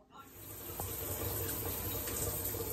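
Steady running water from a tap pours continuously during a hair wash, a broad even rush that starts right away and holds at a constant close level throughout.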